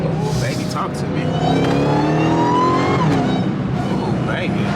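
A Dodge Hellcat engine revs and drops through a downshift, rising and falling in pitch, loud and close, with someone talking over it.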